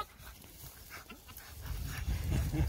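Terriers out ratting pant and whimper close by, with quick breathy panting that grows louder and rougher over a few seconds against faint outdoor noise.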